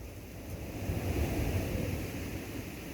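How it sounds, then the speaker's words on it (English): Wind rumbles and buffets the microphone in a low, steady roar that swells slightly in the middle, with no voices. "It's a bit windy, it's a bit cold"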